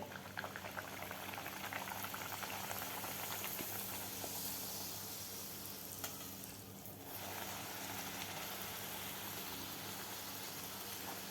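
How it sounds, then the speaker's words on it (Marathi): Puris fry in hot oil for Maharashtrian aamras puri, a dense bubbling sizzle that stays steady and close throughout, dipping briefly midway, with no voices. "दुसरीसुद्धा आपण पुरी तळून घेऊया."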